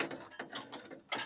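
Ratcheting mechanical clicks and clunks as a seized Chrysler Slant Six engine is turned over by hand with a wrench, a few close, separate bursts with short pauses between them and no talk.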